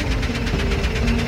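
A cartoon tractor's engine chugs steadily in a loud, rapid knocking rhythm with a constant low drone, with no voices over it.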